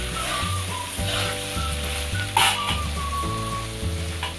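Cabbage sautéing in a pan gives a steady, fairly loud sizzle throughout, with a faint melodic tone running underneath and one brief brighter burst midway.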